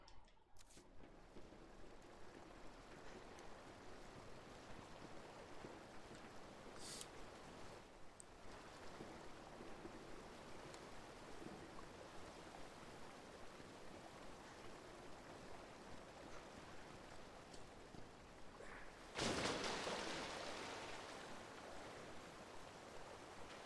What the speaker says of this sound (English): That is a literal waterfall of shit!